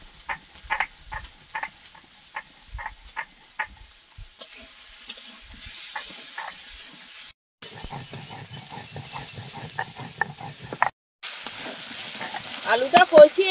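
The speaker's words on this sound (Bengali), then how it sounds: "ভালো করে এবার কষিয়ে নেবো আলুটাকে।" Potatoes sautéing in a pan for a fish curry, a crackling sizzle with rhythmic spatula scrapes early on and then denser frying noise, close, with brief gaps and no talk.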